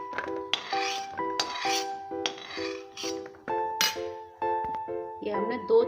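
Roasted cashew pieces clinking onto a plate, with a series of bright ringing chinks and pings of metal or glass, close, in irregular bursts and with no talk.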